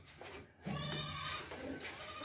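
A sturdy male goat of about 33 kg, held for sale, lets out one loud, drawn-out bleat at close range after a short quieter lead-in.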